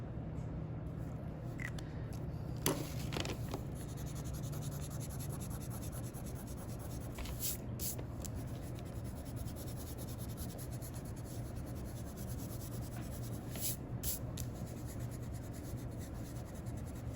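Pen or marker strokes drawing lines while lettering in two-point perspective, soft scratchy scrapes in short bursts over a steady background hiss, close and faint.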